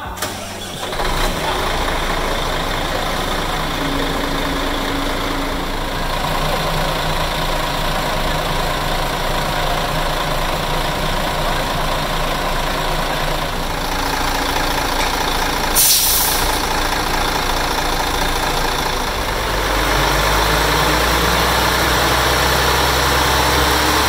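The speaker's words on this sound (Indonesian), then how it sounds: "seperti inilah suara mesin OM 460LA ketika dihidupkan" A Mercedes-Benz OM 460LA engine in an O500RSD 2445 single-deck bus cranks and starts, then settles into a loud, steady diesel idle with a brief hiss of air partway through.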